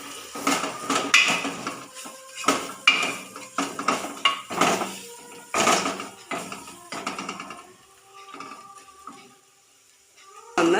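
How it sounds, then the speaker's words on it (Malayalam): In a pot of egg curry, a spoon scrapes and clanks repeatedly against the metal while freshly ground garam masala is stirred in, a busy irregular rhythm that slows toward the end. "അത് ചേർത്ത് നന്നായി ഇളക്കാം"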